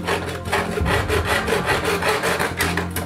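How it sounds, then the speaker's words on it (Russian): Rhythmic back-and-forth sawing with a hacksaw rasps through a stuffed turtle's hard shell, close and steady, with quick regular strokes and no voices. "Поэтому я решил пилить панцирь пилкой по металлу."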